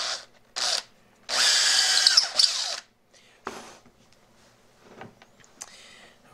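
A power drill bores a hole in wood for a furniture hinge. It whines in two short bursts and then one longer, close run, followed by quieter handling and tool noises.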